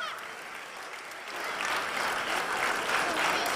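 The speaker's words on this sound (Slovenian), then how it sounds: "Zaploskajmo vsem!" An audience at a festival finale applauds. The clapping starts moderate and swells into fuller, louder applause that holds to the end.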